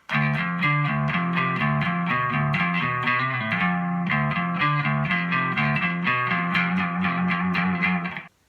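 A distorted electric guitar plays a fast, repeating riff with rhythmic picked notes, loud and close, ending abruptly after about eight seconds.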